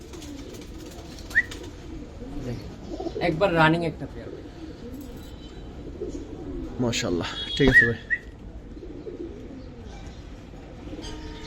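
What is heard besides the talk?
pigeons cooing, Giribaz pigeons at a farm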